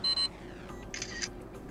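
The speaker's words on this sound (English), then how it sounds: "our device will count down from 10, 5 or 3, depending on which option you've chosen, and after that time it will take a photo" A ZTE Blade A36 phone's camera timer gives short electronic beeps, two quick loud tones at the start followed by a softer beep, clean and close with no talk.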